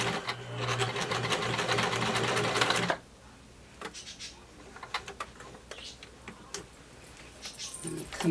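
Sewing machine running a straight stitch on cozy loungewear fabric, a steady, loud mechanical whir for about three seconds that then stops, leaving quiet handling clicks and light rustles.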